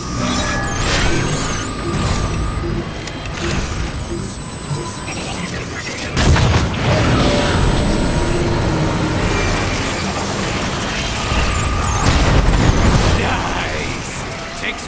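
Heavy blasts and crashing booms from a gun overloading and blowing up in the Transformers War for Cybertron video game, loud and dense throughout, layered with music and mechanical clatter.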